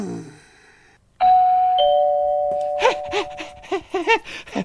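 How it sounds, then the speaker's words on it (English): A doorbell rings once with a bright chime that lingers, followed by a rapid string of shorter, clanging ding tones. "I heard the bell."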